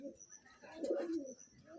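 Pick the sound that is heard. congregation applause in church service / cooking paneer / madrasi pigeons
madrasi pigeons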